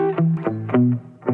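Distorted electric guitar plays a full chord progression in a lesson, with short picked chord strikes in a steady rhythm, close and clear with no voice over it.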